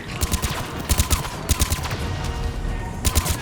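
Rapid bursts of gunfire from a weapon in the video game Mass Effect Legendary Edition, loud repeated volleys in quick clusters with short gaps, over a dense combat background and no talking.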